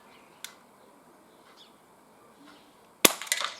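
Umarex Walther PPQ CO2 pistol fired outdoors at a target 20 metres away, one faint sharp pop early and a louder crack near the end with a short rattling tail, otherwise quiet with birds in the background.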